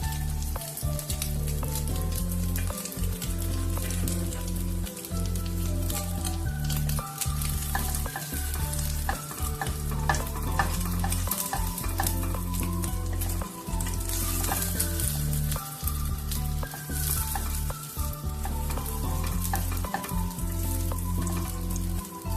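French toast roll frying in a pan of oil, a steady close sizzle with crackling pops and occasional stirring scrapes, continuous and fairly loud with no talk.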